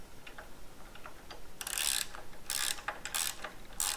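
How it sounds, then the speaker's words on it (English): A 13mm wrench tightens the bolts on a BCS two-wheel tractor sickle bar attachment, giving soft ratcheting clicks and ticks with a few louder bursts of metal scraping, close by and with no voices. "Lower the shoe to the floor and tighten the 2 remaining bolts."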